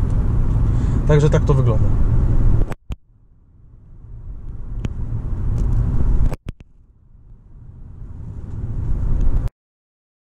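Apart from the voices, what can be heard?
Mercedes S550 W221 accelerating after kickdown to overtake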